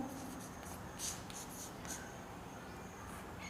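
Chalk or a pen writes on a board during a physics lesson, giving soft, close scratchy strokes in short bursts over a steady room hiss.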